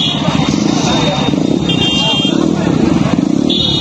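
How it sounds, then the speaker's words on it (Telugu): Many motorcycles in a large political bike rally, engines roaring loudly and continuously close by, with horns and crowd voices mixed in. "భారీగా బైక్ ర్యాలీతో"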